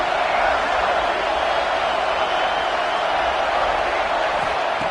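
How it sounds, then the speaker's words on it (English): Football stadium crowd at a Georgia vs Alabama game roaring steadily as the defense holds in the red zone, a dense, continuous wash of cheering without distinct breaks. "the crowd coming to life here, trying to help this defense down in the red zone"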